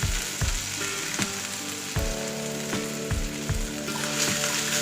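Onions with ginger, garlic, green chilli and cumin fry in a pan for masala chapathi, giving a loud close sizzle with regular scraping stirs and clinks of a ladle, no voices.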